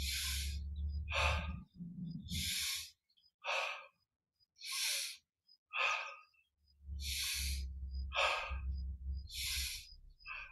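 Slow, deep breaths during a guided yoga meditation: drawn-out inhales and exhales repeat in a steady rhythm, close and clear, with brief quiet pauses between them.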